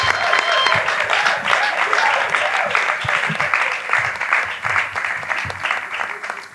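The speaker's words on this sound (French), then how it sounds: "Merci d'avoir applaudi sans qu'on vous le demande." An audience at a debate final claps for several seconds, producing a full, continuous patter of applause from many hands at close range.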